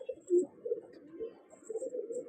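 Giribaz and Madrasi pigeons give faint, low cooing phrases in a quiet loft, soft rolling murmurs rising and falling with brief pauses between.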